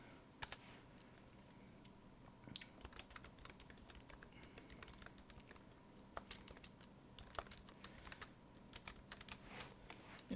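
Quick, steady keystrokes on a computer keyboard clatter close and fairly quietly, with bursts of clicks and brief pauses and no talking.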